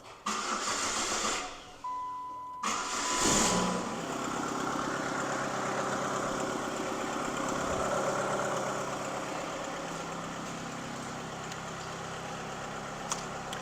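A 2003 Saturn Vue 2.2 Ecotec engine cranks briefly, catches and settles into a steady idle that runs on with a low, even rumble.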